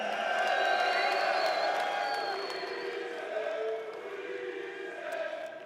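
A crowd cheers and whoops at a Call of Duty League Major tournament arena, a broad, steady roar that stays loud throughout and dips slightly toward the end, with scattered shouts mixed in.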